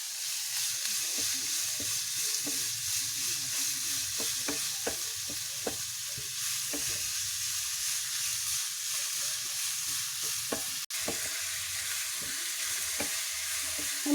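Sliced onions sauté with a pinch of salt in a pan for samosa filling, a soft continuous sizzle broken by frequent scraping stirs of a spatula and a sharp click near the end.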